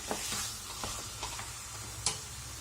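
Tender jackfruit cutlet mix with pepper powder stirred in a hot pan, a soft steady sizzle under scattered spoon taps and scrapes against the pan, close and quiet with no voices.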